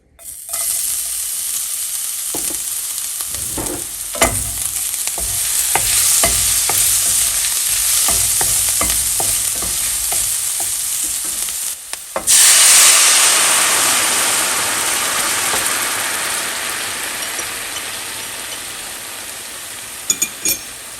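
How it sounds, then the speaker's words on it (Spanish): Garlic sizzles in a splash of oil in a frying pan, a steady loud hiss with clinks from a utensil as it is stirred, and the sizzle flares up sharply partway through before settling back down. "Vamos a agregar un chorrito de aceite en un sartén y voy a agregar el ajo."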